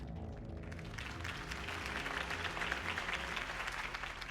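Crowd applause following a campaign speech in Batman: The Telltale Series, Episode 1, a steady wash of clapping sustained throughout at even, moderate loudness with no talk over it.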